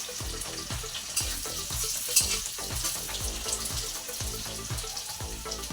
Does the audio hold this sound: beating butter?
no